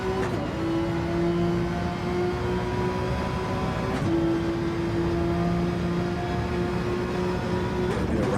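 A Porsche GT3 Cup race car engine from an onboard view in a racing video game at the Red Bull Ring drones steadily at high revs, with two brief dips as the car shifts gears.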